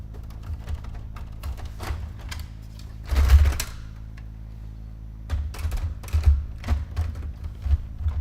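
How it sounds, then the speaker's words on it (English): Printer in a TV weather studio chattering in short mechanical bursts, with a louder clatter midway and more intermittent printing toward the end, fairly close but modest in level. "You can hear my printer going off now."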